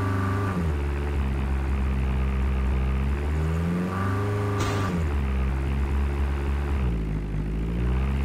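Helicopter in a Call of Duty battle royale match: a loud, steady rotor and engine drone that fills the whole stretch with a whirring pitch shifting slightly, no voices over it.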